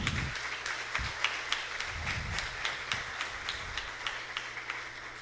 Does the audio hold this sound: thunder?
no